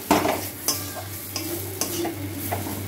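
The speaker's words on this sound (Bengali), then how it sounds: "এবার সমানে নাড়াচাড়া করতে হবে" A pointed gourd paste is stirred while it fries in a pan, making a soft continuous sizzle broken by several sharp scrapes of the spatula against the pan in a loose rhythm, close and fairly quiet.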